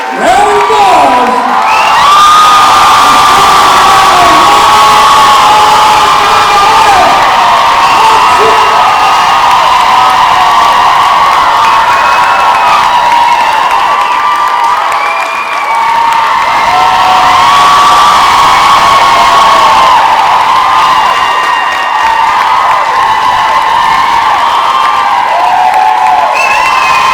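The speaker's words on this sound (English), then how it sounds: "Round of applause." A large fan-convention audience cheers and whoops loudly and continuously, with clapping blended into the roar of the crowd for nearly half a minute.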